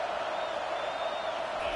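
A home crowd at an Oregon vs Florida State college football game roars as a steady, dense wash of cheering that fills the background without pause.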